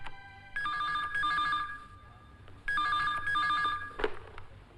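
A telephone bell rings in two long trilling bursts separated by a pause, loud and close, followed by a clatter as the handset is picked up.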